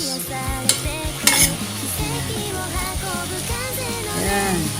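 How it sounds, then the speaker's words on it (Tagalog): Chicken breast with carrots and Baguio beans sizzles in a pan while being stirred, with clinks and scrapes of a utensil against the pan, close and steady for about five seconds. "Haluin muna natin"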